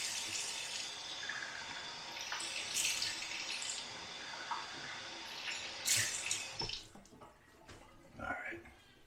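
Water splashes as a face is rinsed. Close running and sloshing comes in uneven bursts with a few louder splashes, then trickling drips toward the end, with no talking.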